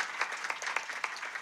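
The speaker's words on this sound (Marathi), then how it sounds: "एकदा जोरदार टाळ्या झाल्या पाहिजे महाराज" Audience applause at a devotional gathering marking the 49th year of a Harinam Saptah, a brief burst of scattered clapping from a crowd, fairly faint and slightly distant with no talk over it.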